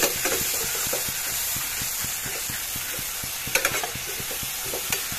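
Potatoes fry in a pan with a dense, continuous sizzle, a close steady hiss marked by regular soft taps of a spoon stirring, with no talking.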